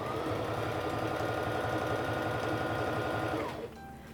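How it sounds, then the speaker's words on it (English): A SINGER Fashion Mate 3342 sewing machine stitching scrap fabric runs at a steady, rapid hum with a fast mechanical chatter for about three and a half seconds, then slows and stops, alone and close. "I'm going to begin sewing by pressing on the foot control."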